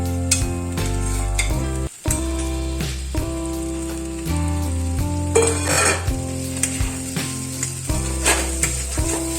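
Pointed gourd is stirred and fried in a cooked-down spice paste with oil, making a loud, steady sizzle up close with intermittent scraping stirs, all over soft background music.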